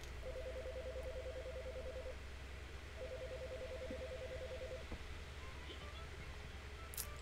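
In the Chicory: A Colorful Tale video game, a phone call home plays as two steady bursts of dialing or ringing tones over a quiet background hum.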